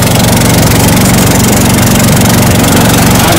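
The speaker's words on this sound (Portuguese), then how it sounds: "E o motorzão agora vem arregaçar." A big boat motor on an Amazon river runs very loud and close, a dense, continuous engine drone with a steady rapid pulse throughout and no voices.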